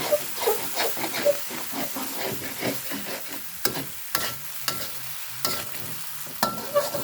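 Pork fried rice made with jasmine rice is stir-fried in a pan, with repeated scraping and tossing strokes over a soft hiss of frying, sharp clanks of the utensil punctuating the bursts, close and without talk.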